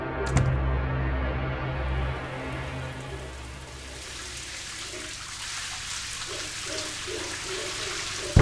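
Shower water running in a bathroom, a steady hissing spray that swells after a brief quieter start and keeps going with small splashes and a sharp knock at the very end.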